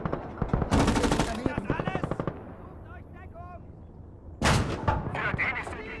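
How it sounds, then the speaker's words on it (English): Maxim machine guns firing in the WWII game Gates of Hell, loud rapid bursts of rattling automatic fire with heavy booms, alternating with quieter moments of in-game chatter and other voices. "Those Maxim guns are real big issues at times."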